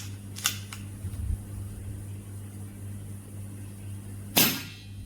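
Underpowered CP2 air rifle firing a pellet: a couple of weak, soft pops early on, then a sharper, brief crack with a hiss near the end, set against a steady background hum.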